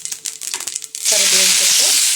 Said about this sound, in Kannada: ಎಣ್ಣೆ ಕಾಯ್ದಿದೆ. ಸಾಸಿವೆ ಹಾಕಿದ್ದೀನಿ, ಜೀರಿಗೆ ಹಾಕ್ತಾಯಿದ್ದೀನಿ